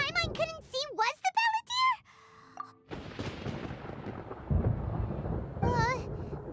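Video game thunder breaks in after a character speaks, a broad, loud rumbling crash that rolls on for several seconds before another voice briefly talks over it.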